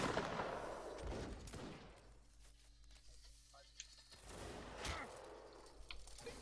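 Musket fire pops in bursts during a fortress siege in Mount & Blade Warband Napoleonic Wars, distant shots spread over a low steady drone and a faint voice.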